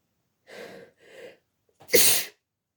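A single human sneeze, preceded by two quick drawn-in breaths and ending in a sharp, loud, close burst, with no speech around it.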